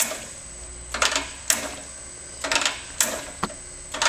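An Accu-Staltic four-channel discrete-manifold peristaltic dosing pump runs a tiny 0.4 ml dose, giving short clicking, whirring bursts in pairs about every second and a half over a steady high electrical whine, close and fairly quiet.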